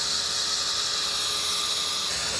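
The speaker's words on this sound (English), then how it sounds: "I get to try the very exciting cordless track saw." A cordless track saw cuts a pre-laminated board in a continuous loud, high-pitched whine that stays steady and close for the whole stretch.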